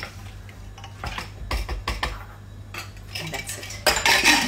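Spoon clinks and scrapes against a bowl while chicken tikka marinade is mixed with salt, a run of irregular close scraping strokes and taps over a steady low kitchen hum, growing busier toward the end.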